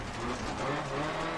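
Car engine drone with tire noise from a rally car driven on dirt in Dirt Rally, played with a load-cell pedal set, steady and continuous with a faint voice underneath.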